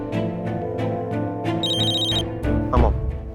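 A telephone rings during a call to Ranbir in a Hindi TV drama scene. One short, bright electronic ring burst sounds over a background music score with steady rhythmic notes.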